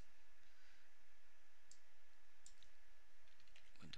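Soft, sparse mouse clicks sound faintly against a quiet room hiss as a setup wizard on a computer is stepped through, a few isolated ticks with a small cluster of clicks at the end.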